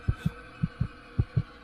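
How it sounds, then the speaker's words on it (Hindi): Heartbeat sound effect in a horror story: three close-up double thumps, lub-dub pairs evenly spaced and muffled, over a faint hum with no voice. "मेरे दिल की धड़कनें, मेरे खून का मेरे रगों में दौड़ना।"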